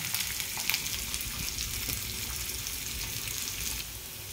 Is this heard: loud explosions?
no